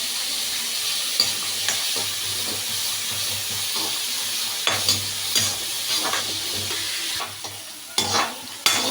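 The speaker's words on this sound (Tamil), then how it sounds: "இப்போ நம்ம வெங்காயமும் தக்காளியும் சேர்த்தே போட்டுக்கலாம்." Onions and tomatoes sauté in a pan for chicken curry, a steady broadband sizzle with scattered scraping stirs and a few sharper clacks toward the end, close and fairly loud, with no voices.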